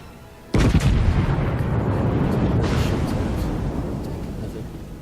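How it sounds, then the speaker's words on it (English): A cruiser's HE broadside in the naval game World of Warships, one sudden heavy booming blast followed by a long rumbling roar that slowly fades, loud and close. "Broadside of HE from the cruiser there"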